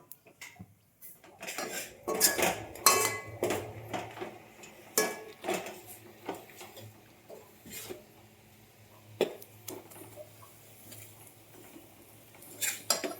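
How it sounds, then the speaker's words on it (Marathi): A vegetable is tipped into a tempering of coconut, ginger, garlic, cumin and mustard and stirred in the pan, with clattering bursts of a utensil scraping and knocking against metal, irregular and close. "आता आपण हे ही भाजी फोडणीला टाकूया"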